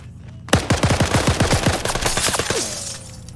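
Automatic gunfire in a competitive tactical shooter match rattles out in one loud, rapid burst of about a dozen shots, then trails off into a fading echo.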